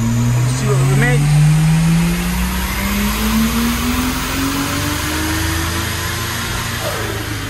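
A Lexus IS200 engine revs hard on a dyno, its rising tone climbing steadily under loud roller and fan noise, close and continuous.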